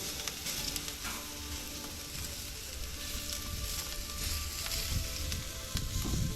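Onion sizzling in a pan at a tailgate cookout, a quiet continuous crackling fry with occasional small pops and stirring sounds, no voices.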